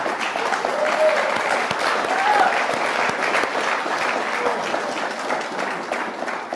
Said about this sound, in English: Now, you need to clap really big for that.